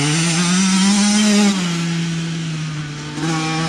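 A KTM motorcycle engine revs up close. A steady buzzing drone rises in pitch, dips at about the halfway point, then climbs again.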